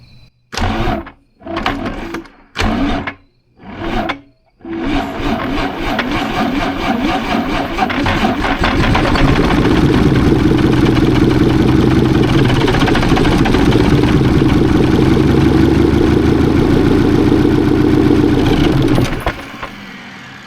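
An old high-mileage bus engine saved from the scrapyard cranks in four short bursts, then catches into a long, loud, steady rumbling run before cutting off near the end.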